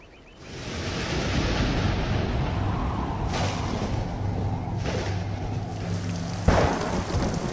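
Steady, heavy rain falling continuously, a broad, even rushing hiss heard alone, with a few brief louder surges breaking through the downpour.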